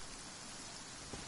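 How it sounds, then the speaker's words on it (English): Steady rain falls in the video game Genshin Impact, a faint, even hiss of droplets with no other sound standing out. "Oh, I don't like the rain."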